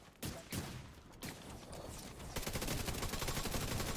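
Gunfire in a video game boss fight: a few heavy separate shots open, then a dense rapid automatic burst takes over and hammers on steadily, loud and close with no voices.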